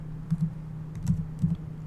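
Quiet typing on a computer keyboard, a handful of soft keystroke clicks in small clusters over a faint steady hum.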